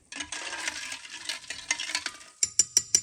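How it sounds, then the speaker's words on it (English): A spoon stirs a fizzing vinegar and baking soda mixture with a continuous scraping swirl, then finishes with several sharp clinks against the container. "And let's give this a stir."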